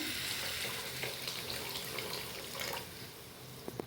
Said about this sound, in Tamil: இப்போ நான் வந்து நெல்லிக்காய் சைஸு புளி கரைச்சி வச்சுருக்கேன்ல, அதை இது கூட சேர்த்துக்கிறேன்.